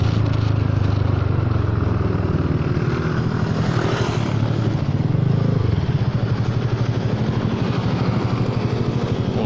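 A Honda Forza 300 scooter with an aftermarket two-hole, double-layer exhaust runs steadily nearby, giving a continuous, loud, throbbing engine drone that swells briefly in the middle.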